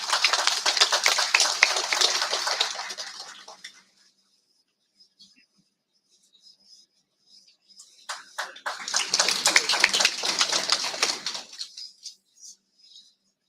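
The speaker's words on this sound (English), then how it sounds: "Please welcome Dr. Joe Chitlik with a well-deserved round of applause." Listeners welcoming a speaker at a negotiation lecture clap in two separate bursts, a few seconds each, divided by near silence, the clapping fairly close and thinning out at the end of each burst.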